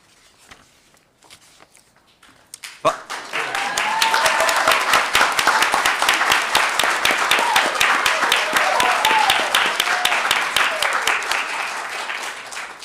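Sustained applause at a school board meeting, a dense crowd of clapping that starts abruptly and holds steady and loud until the end.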